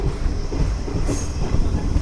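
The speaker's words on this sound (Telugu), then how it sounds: "సో ఇక్కడ మన ట్రైన్ స్టాప్ కానీ చూసుకుంటే వన్ మినిట్ అయితే ఉంటుంది" Repalle to Charlapalli passenger train braking to a halt at Bellamkonda station, a loud dense rumble of wheels with a brief high squeal near the middle, no voices.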